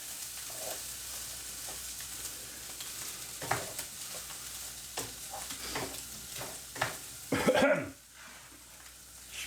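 Chilli beef being stirred in a pan after lime juice is added, with soft scraping and light sizzling under a quiet background, a few clattering utensil knocks and a louder scrape near the end.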